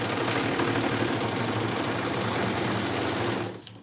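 A sewing machine runs steadily, close and fairly loud, stitching through a thick bundle of fabric for Oakley Bottoms trousers, then stops abruptly near the end.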